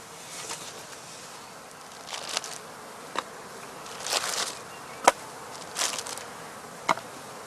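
Bees at a heather skep apiary in spring, a soft steady hum broken by brief buzzing passes and small clicks, close and quiet, with no voices.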